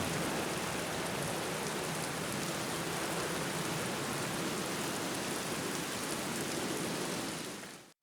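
Steady rain pours in the video game Black Mirror, a dense, even hiss that holds at one level for about eight seconds before cutting off abruptly, with no voices over it.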